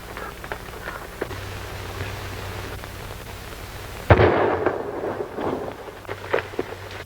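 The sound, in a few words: gunshot in an old western film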